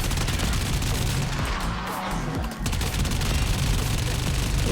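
Sustained automatic fire from an arch-gun machine gun in the video game Warframe, a dense, loud, continuous roar of rapid shots with a brief dip midway, no talk.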